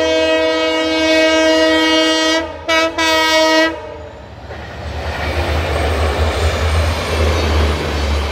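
Diesel trains hauled by dual EMD locomotives overtake on Indian rails, the Amritsar Shatabdi Express passing the Punjab Express: a loud sustained horn blast with a brief break, then a rushing roar of passing wagons.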